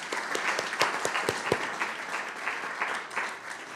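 Light applause from a modest group at a school board meeting, a patter of claps that fades gradually, fairly faint in a large room.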